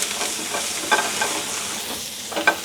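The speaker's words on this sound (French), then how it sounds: "on marque en cuisson nos morilles" Morels sear in a hot pan with a continuous bright sizzle and a few brief pops and clinks, with no voices.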